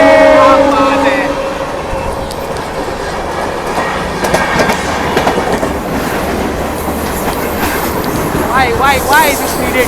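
The 12953 Mumbai Central–Hazrat Nizamuddin August Kranti Rajdhani Express runs alongside on a parallel track, close and loud, with rhythmic wheel clatter and squeals while a voice talks over it.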